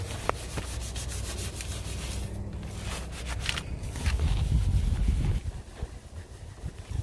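A wheel woolly brush scrubs brake dust off a Camaro SS wheel, making a continuous close, rough rubbing and swishing that swells louder toward the end.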